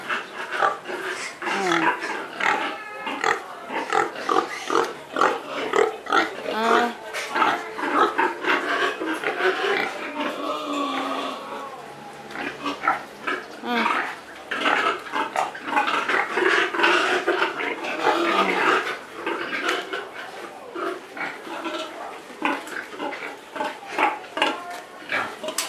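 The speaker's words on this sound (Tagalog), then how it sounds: "Ayan, baboy." Pigs on a farm where a sow is giving birth, heard as repeated close grunts and oinks throughout, with clattering noises and people talking in the background.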